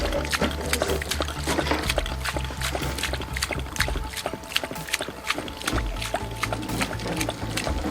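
Water gushes from a ram pump pipe in a steady rushing flow, with rapid rhythmic clicks or knocks from the pump running through it at moderate volume.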